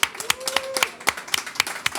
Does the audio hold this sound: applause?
yes